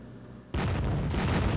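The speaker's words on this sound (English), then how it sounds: "Got the big cannon thing online." Big cannon in the strategy game Zero-K fires with a sudden heavy boom that rolls on, followed by a second burst of impact rumble, loud and close with no talking.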